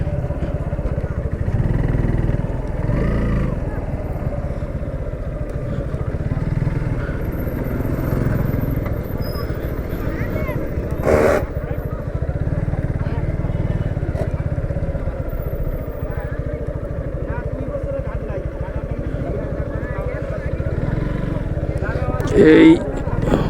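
A motorcycle engine runs by a riverbank under hot sun, a steady low rumble that continues throughout while a person talks over it.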